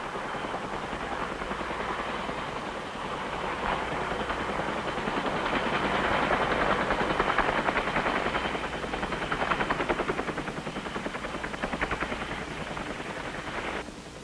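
A Cobra AH-1J attack helicopter flies nearby, its rotor beating in a rapid, steady chop that swells louder toward the middle and stays continuous throughout with no talk.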